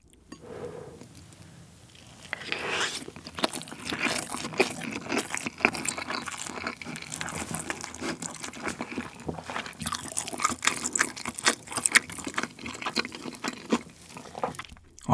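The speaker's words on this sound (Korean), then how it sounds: "맛있어요. 일단 먹어, 또 먹어야지." Someone eats fried rice with spicy grilled beef intestines close up, with steady moist chewing, smacking and small crunches in a dense, continuous rhythm and no talking.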